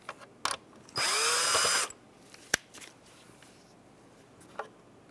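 A power drill removes the two Phillips screws holding the fuel tank selector switch on the dash of a 1992-1996 Ford F-150. It gives one loud close whir of about a second, with light clicks and taps before and after.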